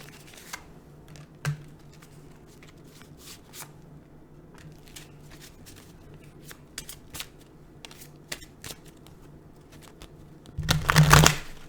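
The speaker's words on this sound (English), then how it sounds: "we're going to grab a few cards from this deck" Cards being shuffled and drawn from an oracle deck with rose gold edges, a run of soft, brief flicks and slides scattered through quiet, ending in a louder burst of riffling.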